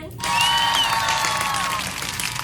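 A round of applause, clapping that rises suddenly and holds steady before easing off slightly, with a high whistle-like tone running through it.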